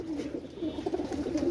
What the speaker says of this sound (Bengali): কবুতর পেয়ারটা দেখেন, ইনশাল্লাহ ভালো লাগবে